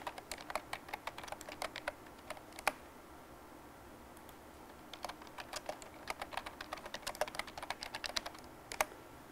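Quiet typing on a computer keyboard, quick bursts of key clicks with brief pauses, close by and with no voices.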